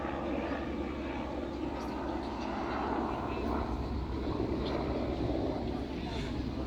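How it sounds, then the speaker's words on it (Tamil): A helicopter flying past over the Normandy American Cemetery gives a broad, continuous engine drone heard at a moderate distance, blended with wind buffeting the microphone and faint voices nearby. "இங்கே போகுது ஹெலிகாப்டர்."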